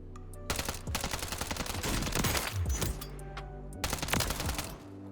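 A Striker SMG fires in long, rapid automatic bursts in Call of Duty Warzone. The shots are loud and close, with a short pause between two extended strings.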